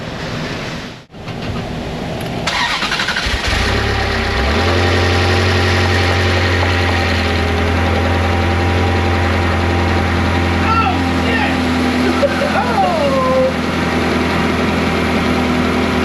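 A car engine in an auto repair shop cranks and catches after a couple of seconds, then settles into a steady, loud idle that drones on close by, with people talking faintly in the background.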